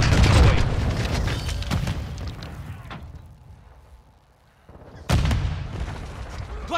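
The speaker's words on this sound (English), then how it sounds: "Cluster mine deployed!" Cluster mine explosions in Call of Duty: Modern Warfare II, with heavy booming blasts rolling in loud and close, fading to a lull before a sharp new burst of detonations.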